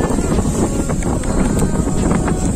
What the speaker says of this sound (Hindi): ये देखो गाइस बहुत ही तेज हवा चल रही है, पत्ते बार बार मुझे लग रहे हैं।